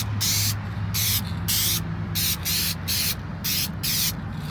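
Spray paint hissing onto a truck bed in a series of short, even bursts of roughly half a second each, close and steady with brief gaps between passes.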